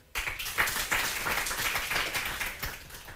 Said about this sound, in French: On applaudit s'il vous plaît, chèque.